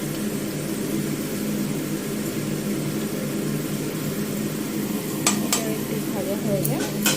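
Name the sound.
potatoes frying and being stirred in pan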